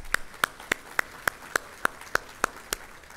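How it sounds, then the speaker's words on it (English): Sparse, evenly spaced claps, about ten sharp slaps at a steady rhythm, faint and somewhat distant, from a few people in the audience at a school-district State of the Schools address acknowledging sponsors. "Let's give them a round of applause"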